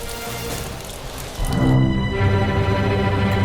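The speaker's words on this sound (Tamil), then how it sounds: "மழை வேற பேஞ்சிட்டு இருக்கு." Rain falls steadily and loudly, a dense patter that swells partway through as a heavier burst of sound joins in, with no speech.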